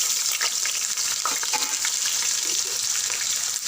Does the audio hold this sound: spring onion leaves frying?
yes